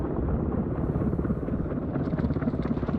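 Two Black Hawk helicopters going down into snow over a backcountry ski area, their rotors giving a loud, close, continuous throbbing roar with fast rhythmic chopping.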